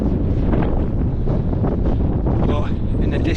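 Wind buffets the microphone on an open hilltop: continuous low rumbling gusts, loud and close, with no other clear sounds.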